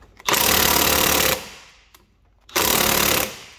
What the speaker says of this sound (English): Now we'll just see if this side will come loose with the impact.